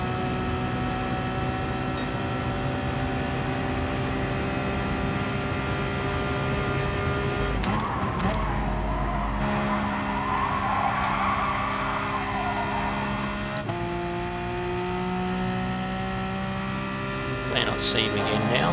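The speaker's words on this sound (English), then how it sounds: "that's why you can hear the engine revving, because the diff is slipping as I do that" A car engine in a PS4 racing game revs high and sustained while the differential slips and one wheel spins, with steady whining engine tones shifting in pitch as the throttle changes.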